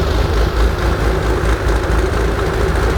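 A Porsche 911 of the 964 generation fitted with a Cargraphic exhaust idles with its exhaust valve in the closed position, a steady, loud, deep rumble that holds even and close with no voices.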